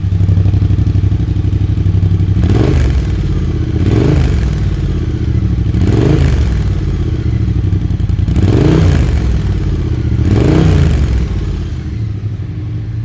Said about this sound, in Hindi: ये जो आवाज़ में आ रही है बाय डिफ़ॉल्ट इसके स्टॉक एग्जॉस्ट से आ रही है।